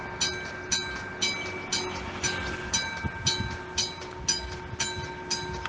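A Kawasaki Toshiba Series 4800 electric suburban train in Bahia rolls past close by. Wheels clack at a steady, regular rhythm over rail joints beneath a constant electric hum and whine.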